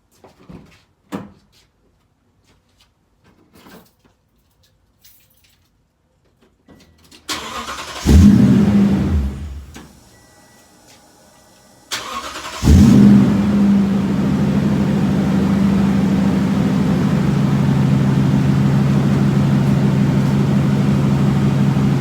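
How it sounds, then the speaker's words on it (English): A 2016 Toyota Tundra Platinum fitted with an S&B intake cranks and briefly catches, dies, then cold starts and settles into a loud, steady high idle, close up with no talking. "Let's do another cold start."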